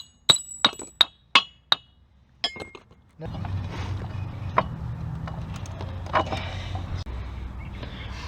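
Light hammer taps on a Chevy Malibu half shaft: five sharp, ringing metallic strikes in quick succession, close and loud, then a few softer knocks followed by a steady rumble of workshop noise.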